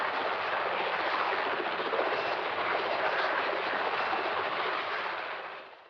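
A steady, loud military squadron helicopter roar in 1975 Hong Kong, heard as dense unbroken noise from inside the cabin, holding level before fading away at the end.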